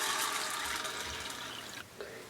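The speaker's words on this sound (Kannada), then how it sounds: "ಹೆಸರುಬೇಳೆನ ಒಂದು 2-3 ಸಲ ಚೆನ್ನಾಗಿ ನೀರಲ್ಲಿ ತೊಳ್ಕೊಂಡ್ಬಿಟ್ಟು ನೀರು ಹಾಕಿ ಇದಕ್ಕೆ ನೆನೆಯೋಕ್ಕೆ" Water poured over moong dal in a kitchen for washing and soaking, a soft splashing pour that runs steadily and then tapers off with a few faint trickles, fairly quiet.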